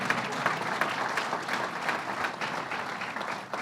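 An audience at a governor's announcement opening a therapeutics research center at Cold Spring applauds, a steady, moderately distant patter of many hands with no speech over it.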